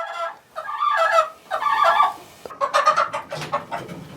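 Hens in a backyard chicken coop cluck and squawk in close, repeated bursts, several birds calling over one another with brief pauses between.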